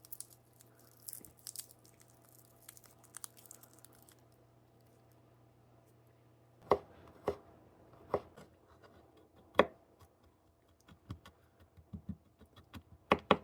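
A knife chops fresh garlic cloves on a board for venison stew. After a quiet stretch with a low hum, a run of sharp, irregular taps comes close and clear in the second half.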